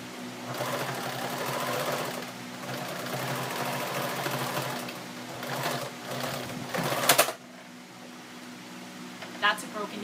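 A sewing machine stitches through layers of old denim for an apron, running in a steady close whir that ends abruptly with a sharp snap as the needle breaks, followed by a quieter hum and a couple of small clicks.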